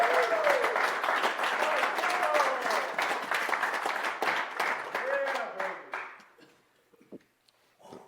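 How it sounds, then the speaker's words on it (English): Audience clapping after a talk on financial freedom, a close, lively burst of applause with voices and whoops mixed in, fading over the last two seconds into scattered claps and murmuring. "Let's clap it up."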